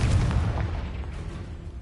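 A Confringo fire spell explodes in Hogwarts Legacy, a loud deep boom that hits at once and then rolls off into a long low rumble.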